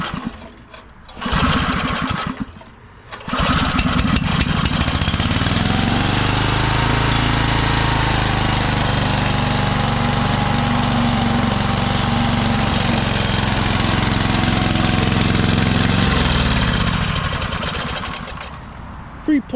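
A 1991 DR field and brush mower engine, freshly oil-changed and fitted with an aftermarket carburetor, sputters through a couple of brief pulls, then catches and runs steadily and loudly at close range for a long stretch before cutting out.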